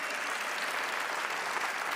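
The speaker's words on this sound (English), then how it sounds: "Let's give them all a big round of applause here one more time" A large audience applauding at a FIBA Hall of Fame ceremony, continuous dense clapping filling the hall at a steady, even level.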